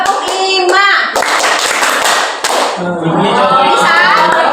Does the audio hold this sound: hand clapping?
yes